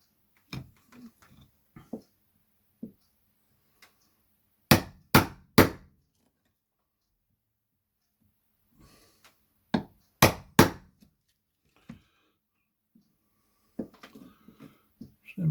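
Hammer blows strike a chisel cutting a mortice lock recess into a wooden door, landing in sharp groups of three close, loud taps separated by quiet gaps, with a few lighter knocks and handling sounds between.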